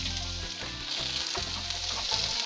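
Minced onion fries with garlic in a pan as a vegetarian samosa filling is made, giving a dense, continuous crackling sizzle close up with a low hum beneath. No one talks.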